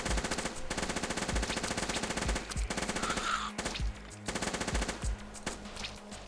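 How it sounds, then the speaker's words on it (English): A heavy assault rifle firing in the video game Hordelicious, long bursts of rapid rhythmic automatic fire with short pauses between, loud and up close amid game effects. "Oh, heavy assault rifle, thank goodness."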